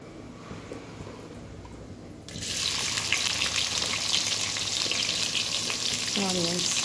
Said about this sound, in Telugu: సో నేను ఇప్పుడు తాలింపు వేస్తున్నాను.